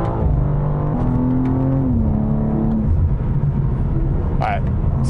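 BMW M2 G87 engine revving under steady French conversation, the motor's drone present but partly buried beneath close voices.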